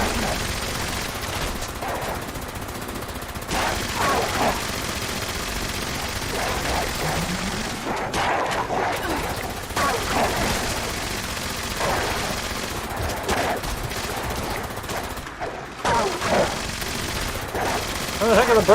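Sustained gunfire in the video game Fallout 76: dense, rapid automatic bursts and fusillades run nearly continuously at moderate loudness, with brief pauses, while voices talk over parts of it.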